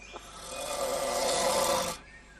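A man snores in a tent at night during an airgun hunting trip, one long, loud, rasping breath that swells and then cuts off, close to the microphone, with no talk.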